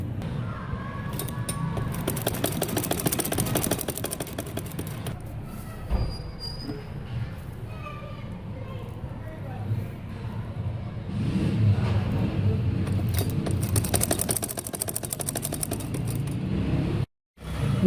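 Sewing machine stitching lace onto a gharara kurti, a continuous fast rattling drone running nearly the whole time, close and loud, ending in a brief stop.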